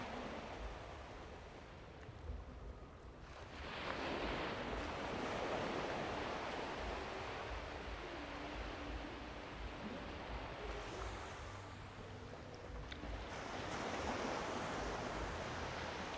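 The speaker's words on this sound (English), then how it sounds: "I'm sat on the beach in the dark." Waves wash onto Cleethorpes beach at night on a rising tide, a faint, steady roar of surf that swells and recedes in slow surges, with some wind buffeting and no speech.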